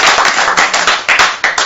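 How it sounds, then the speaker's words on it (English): Audience clapping for a speaker at a family court talk, a dense patter of hands rising and dipping in short bursts, close and loud, with no voices over it. "Give him a clap."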